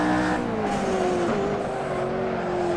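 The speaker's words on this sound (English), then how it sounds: "This is a 4 liter twin turbo V8." A McLaren Senna's 4-liter twin-turbo V8 drones loudly and continuously in Assetto Corsa at Spa, holding a steady high-revving tone with a slight pitch dip midway, heard alone without voices.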